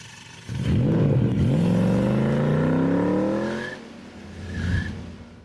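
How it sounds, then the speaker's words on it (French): Renault Rafale accelerating on a highway, a rising engine tone climbing steadily over a few seconds under loud road and wind noise, then easing off. "Quand je commence à accélérer et que je roule sur l'autoroute comme ça"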